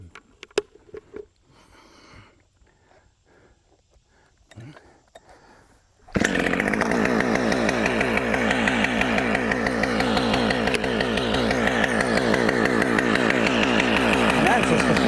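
A chainsaw roars to life partway through while cutting down a tree near a house, loud and close with a steady high revving drone; before it starts, someone speaks briefly amid quiet outdoor sounds.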